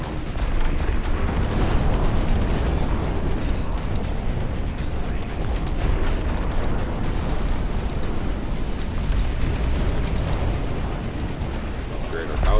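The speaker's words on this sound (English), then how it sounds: "Our tanks are firing." Tanks fire in the video game Dust Front, with dense, continuous rumbling booms and blasts that stay loud and close throughout.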